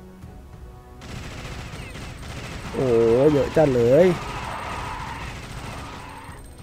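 A gatling gun in the video game Alien Shooter keeps up a steady mechanical rattle of rapid fire, while someone talks excitedly over it.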